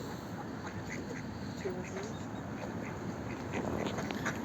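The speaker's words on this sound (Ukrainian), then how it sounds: "Опа, качер." A drake quacks in a farmyard, with repeated short quacks over steady outdoor background noise and faint voices nearby.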